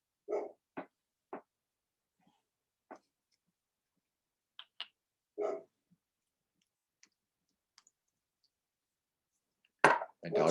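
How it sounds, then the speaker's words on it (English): A dog barks from downstairs in a quiet house, a scattered series of short, faint, distant barks separated by silences, with a louder cluster at the end. "My dog's downstairs feeling something."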